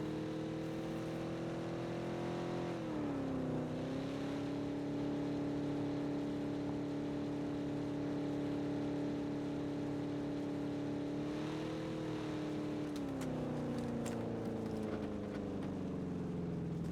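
A car in the game PUBG drives slowly with a faulty engine, a steady droning hum with its pitch dipping and shifting a few times, heard alone and fairly quiet.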